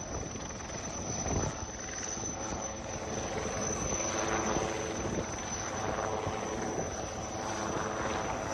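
A steady, fairly loud whirring rotor drone of a coastguard helicopter on a flood rescue in Porbandar, continuous throughout with a rushing wash of noise and no voices.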